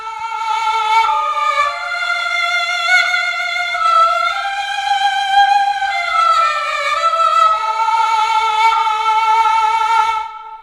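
A banhu bowed-string sample from the Strezov Sampling Jade Ethnic Orchestra library plays a bright, nasal melody of sustained and gliding legato notes, solo and clear at a strong level for about ten seconds.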